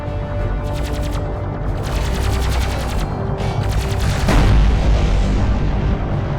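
Rapid bursts of automatic weapon fire and heavy booming impacts from a desert battle in the real-time strategy game Homeworld: Deserts of Kharak, sustained and loud with a sharp explosion-like hit near the end.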